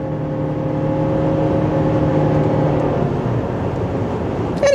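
A 2025 Subaru Forester Premium hybrid accelerating to pass a slower car on the road, a steady low engine and motor hum with road and wind noise rising gently, heard from inside the cabin.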